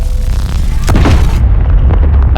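Fixed artillery cannon in the game Space Engineers fires with a loud, deep boom followed by a sustained low rumble and crackling tail, heavy low-frequency energy throughout.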